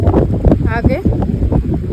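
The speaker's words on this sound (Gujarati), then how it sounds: "પવન કેવો ઠંડો ઠંડો આવે છે" Cold wind blows hard at a dam, buffeting the microphone with loud, gusty low rumbles, and a brief voice rises through it.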